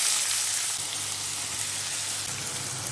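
Steady, dense sizzling of chopped onions frying in hot oil, a continuous crackling hiss with no voices.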